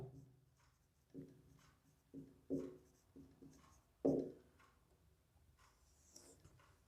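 Handwriting on paper for a maths table, heard as soft scratchy pen strokes in short irregular bursts. The sound is close and faint, with a few firmer strokes standing out, and no talking.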